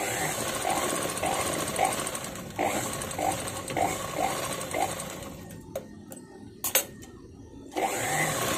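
A sewing machine stitches an umbrella frock in steady, rapid bursts of mechanical whirring and clatter, pausing briefly between runs and then starting up again, close and fairly loud with no talking.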